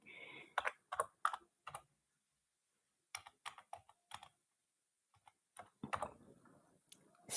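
Someone types on a computer keyboard with caps lock on, producing close, crisp clicks in short bursts separated by pauses, with no voices.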